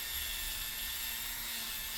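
Dremel rotary tool whirring steadily at high speed while cleaning an antique router plane, a continuous close, thin motor whine with a faint low hum underneath and no pauses.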